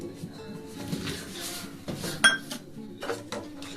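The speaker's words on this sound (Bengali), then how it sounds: "এবার দেখুন আমি আস্তে আস্তে করে এটাকে নাড়িয়ে যাব" A ladle clinks and scrapes against a metal pot while milk curdles with vinegar for homemade paneer, giving a few slow, light metallic knocks close by with soft gaps between them.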